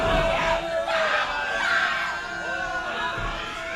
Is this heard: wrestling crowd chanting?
yes